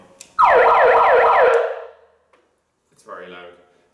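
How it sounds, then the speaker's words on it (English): A loud electronic siren from a 10W megaphone wails in rapid rising-and-falling sweeps for about a second, cuts off, then a short fainter burst follows after a pause. "I'm just going to turn on the siren"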